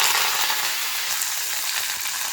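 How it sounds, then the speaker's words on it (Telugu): Steady, close sizzling of spices tempering in hot oil, a continuous crackling hiss with no voices. "ఇప్పుడు మా తాలింపు మాత్రం పెడుతున్నాను"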